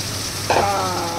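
Vegetables and greens tipped into a hot pan for a home-cooked dish, bursting into a sudden loud sizzle that settles into steady close frying with some stirring, no talking.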